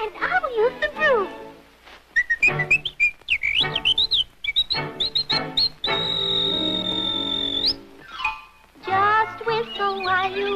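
Cheerful whistling in a Disney sing-along comes as bright tuneful trills and one long held whistled note, mixed with chirpy birdlike calls in a lively, close, busy passage.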